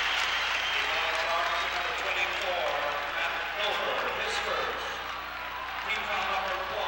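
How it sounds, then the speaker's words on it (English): Arena crowd noise at a 1993 Indiana at Iowa college basketball game after a foul, a broad roar of cheering and clapping that swells and eases slightly, with a commentator talking over it. "the crowd explodes in enthusiasm"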